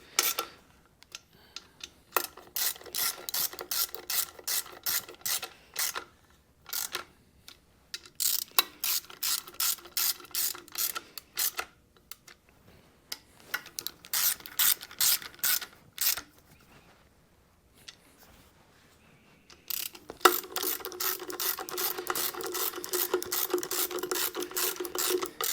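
A hand ratchet clicks in rapid, close bursts while stainless steel bolts are snugged down on a Magnum 5.9L air gap intake manifold for a 1980 Dodge W200. Short pauses separate each run of crisp pawl clicks.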